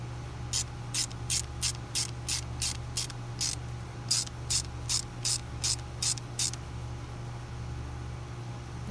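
A socket ratchet clicks in two quick runs of rapid, evenly spaced pawl ticks, tightening an anode on an outboard motor, close and clear over a steady low hum.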